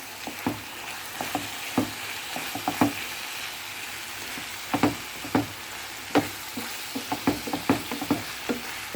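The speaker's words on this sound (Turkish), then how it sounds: "sarımsaklar, domates, biber onları da kavurdum" Garlic, tomatoes, peppers and tomato paste sauté in a pan with a steady sizzle, while a utensil stirs and scrapes in irregular clusters of short, close knocks.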